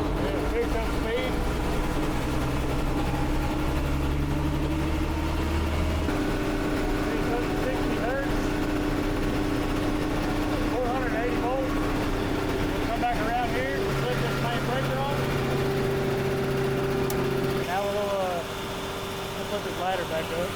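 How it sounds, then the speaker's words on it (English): A generator engine powering a BBQ festival idles with a steady drone, then steps up in pitch twice as it speeds up, running loud and continuous throughout. "And idle slow, and pick up speed."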